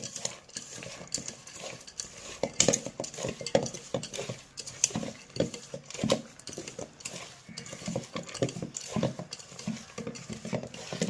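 A steel spoon stirs uttappam batter with salt, onion, carrot and green chilli in a bowl, giving a steady run of close scraping and tapping strokes with no talk.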